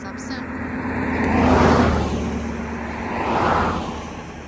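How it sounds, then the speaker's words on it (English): Road traffic at a trailhead: two cars pass by one after another, each swelling as a broad tire-and-engine whoosh and then fading, fairly close, over a constant background hum. "Lots of traffic"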